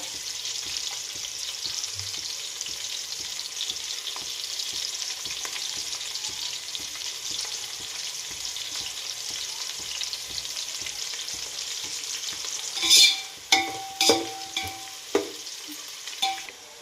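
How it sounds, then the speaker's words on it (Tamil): Onions sautéing in a pan, a steady close sizzle with soft scraping stirs throughout, then several louder clanks and knocks of the spoon against the pan near the end. "நல்லா வெங்காயம் வதங்கணும், கலர் ஆகுது."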